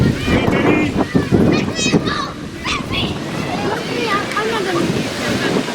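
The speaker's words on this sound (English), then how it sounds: "the wind just seems to be picking up as the night moves along here at Parc des Hirondelles" Wind gusts across a youth baseball field on an evening at Parc des Hirondelles, a steady roaring buffet on the microphone running under a commentator's voice and distant children's chatter.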